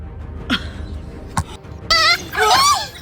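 An African wild dog pack closing in on a lioness at a desert oasis: sharp high yips and whining, twittering yelps, in short bursts and then a longer chorus of squeals near the end, fairly close.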